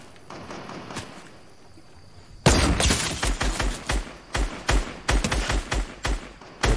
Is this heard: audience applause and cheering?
no